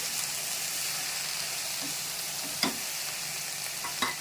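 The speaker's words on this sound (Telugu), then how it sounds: "అవి 2 మిక్స్ చేసేసి బాగా కలిపేసి ఫ్రై చేసేద్దాము" Chopped tomatoes and ridge gourd fry in a pan with a steady hiss and sizzle, broken by a couple of sharp scrape-and-clink sounds of stirring, with no voices.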